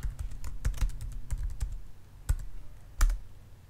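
Someone types a password on a computer keyboard while an Ubuntu system boots, a quick run of close, crisp key clicks with a few sharper strokes near the end, no talking.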